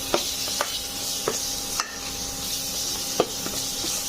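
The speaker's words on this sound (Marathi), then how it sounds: "वाटण पण मिक्स करून घेऊया" Ground masala paste stirred into frying onions, a continuous close sizzle broken by regular spoon scrapes and taps against the pan.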